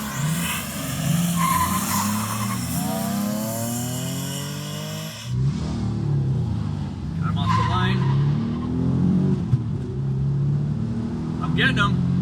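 Oldsmobile Cutlass Supreme race car skidding hard during a race, a loud sustained tire squeal with engine revving that drops abruptly midway, then rougher engine roar and scrubbing tires continue up close.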